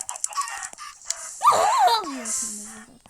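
Blocky chickens clucking in the video game Minecraft, short squawks and clucks mixed with other game noises, while a player chatters over them.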